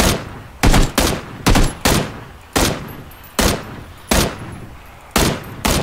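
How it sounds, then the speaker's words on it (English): Single loud gunshots in PUBG fire one after another at a steady, deliberate pace, about nine shots in six seconds, each a sharp blast followed by a fading echo, with no talking. "Mike, are you shooting at somebody?"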